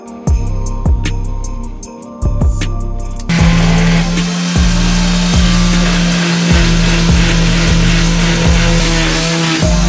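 Wood window trim is cut with a rhythmic, loud saw that rasps in repeated strokes. A deeper powered drone takes over partway through, with no talking.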